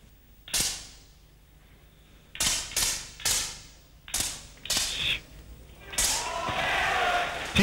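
Sharp single shots from women's air pistol competition in a final, several crisp cracks spaced a second or so apart with hall ambience and an announcer talking between them.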